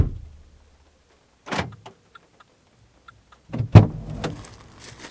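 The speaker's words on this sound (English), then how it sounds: "So that's the car locked." Vauxhall Corsa D locking: a brief mechanical whir and clunk, a pause, then a louder sharper clunk of the door locks with short clicks in between, close and alone.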